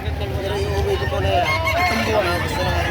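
Young roosters crow and squawk loudly at a busy livestock market, harsh honking calls rising over a crowd of voices and people talking close by.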